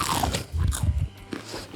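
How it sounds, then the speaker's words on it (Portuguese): Teeth bite into a crunchy cassava-starch biscuit from a Minas Gerais bakery, crisp outside and soft inside, giving a few close, crackling crunches followed by quieter chewing. "casquinha crocante por fora, super macinho por dentro"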